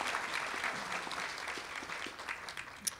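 Audience at an adult education graduation ceremony applauds the newest National Adult Ed Honor Society members, a steady, fairly faint wash of clapping heard from a distance that carries on for the whole span.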